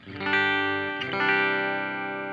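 An electric guitar, a Gibson SG, rings out clean through an amp in a few sustained chords, with a smooth, lightly shimmering tone and no voices.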